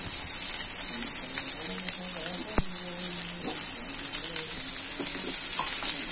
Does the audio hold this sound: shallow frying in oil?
yes